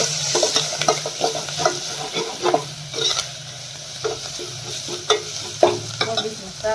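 Cabbage and other vegetables stir-fried in hot oil in a village kitchen: a steady sizzle broken by repeated scraping and clinking stirs of a utensil against the pan, close and fairly loud, with no talking.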